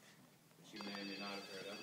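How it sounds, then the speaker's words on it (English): A mobile phone starts ringing partway through on a live late-night comedy talk show stage, a bright repeating ringtone that enters suddenly and continues loudly under someone speaking. "That's my phone. You should. Do you want to answer it?"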